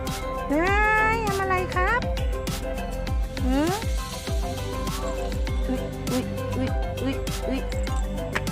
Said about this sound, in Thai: คงจะเป็นแมวแถวนี้แหละ แล้วก็มีเจ้าของ มีกระดิ่งมี มีกระดิ่งด้วยนะ